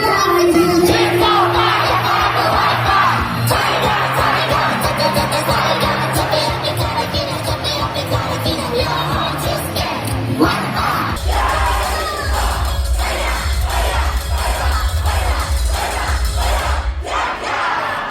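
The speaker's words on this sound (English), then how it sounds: "what are those crazy in-sync chants the crowd is saying?" A large crowd at an idol concert shouts rhythmic, unison chants over loud pop music, the calls pulsing with the beat and switching to a heavier bass-driven section partway through.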